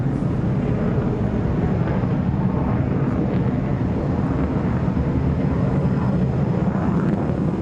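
An F-16 Block 60 fighter jet running on full afterburner, a loud, steady, broadband roar that holds at constant strength throughout with no talking.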